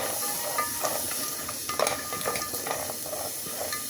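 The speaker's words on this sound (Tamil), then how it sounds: "இந்த பீட்ரூட் நல்லா வதங்கணும்." Beetroot sautéing in a pan for chutney makes a steady close sizzle and hiss, with soft scraping stirs and light clinks of a spoon on the pan.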